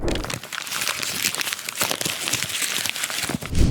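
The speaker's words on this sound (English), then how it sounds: "I crumpled a piece of paper and it sounded like a page turning" Paper is crumpled up close, a dense run of crinkling and crackling that ends with a soft thump.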